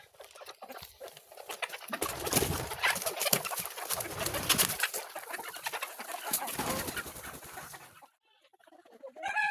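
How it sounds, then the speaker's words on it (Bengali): Chickens are let out inside a poultry farm shed in winter, making a dense, continuous mass of clucking and pattering movement that fades into near silence toward the end. "তাই মুরগিগুলোকে আগে ছেড়ে দিতেছি।"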